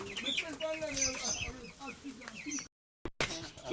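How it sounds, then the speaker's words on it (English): Local chickens on a small Jamaican country farm cluck and call repeatedly, close and lively, mixed with other bird chirps, then cut to a moment of silence before resuming. "These are local chicken, and this a type of chicken people for eat."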